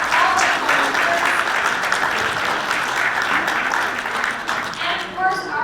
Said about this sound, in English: A big round of applause for all the volunteers.